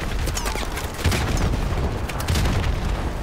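Javelin missile launch in Call of Duty Modern Warfare Remastered: a dense, loud blast and roar with booming impacts and crackling gunfire throughout, swelling at about one second and again near two and a half seconds.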